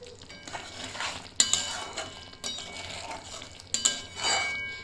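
Four or five green chilies drop into a frying pan of yogurt-based doi katla gravy, giving a couple of sharp metallic clinks and clatters against the pan amid faint stirring and scraping, close and fairly quiet.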